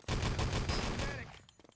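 A Luger pistol firing in a competitive 3v3 video game match: a loud, dense burst of gunfire that fades out after about a second and a half.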